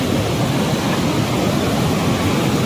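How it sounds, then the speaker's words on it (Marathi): Water roars over Karav dam near Vangani, a dense, steady rushing wash that fills the air, loud and constant with no voices. "पाण्याचा जेवढा आवाज जबरदस्त येतो आहे"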